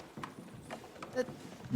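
Mounted horsemen in a competitive strategy game tournament make soft, scattered hoofbeat clip-clops beneath a commentator's talk.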